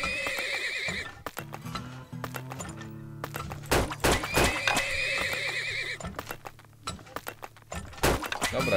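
Horses neigh and whinny loudly and repeatedly in the video game Turmoil, interspersed with hoof clip-clops and hollow thunks, with brief quiet gaps between the calls.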